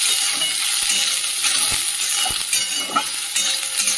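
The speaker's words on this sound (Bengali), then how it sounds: "একটু নুন হলুদ দিয়ে সোয়াবিনটা একটু ভেজে নেব।" Washed soybean chunks fry in hot mustard oil in a wok, giving a steady loud sizzle with a few light clinks and stirring knocks, close by.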